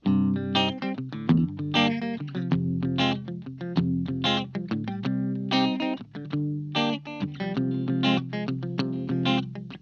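An electric guitar plays a series of chords and picked notes through a ZT Lunchbox amplifier in a clean tone, with no one speaking.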